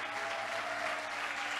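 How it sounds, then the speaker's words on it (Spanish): Church congregation applauding during a worship service, a steady, even wash of many hands clapping, fairly quiet and distant, with no break in the sound. "Fuertes aplausos al Señor."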